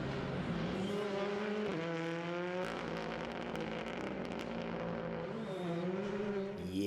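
Ford Fiesta R5 Evo rally car sliding on a slippery Donington Park circuit, its loud, close engine revving hard with rising pitch and quick gear shifts throughout.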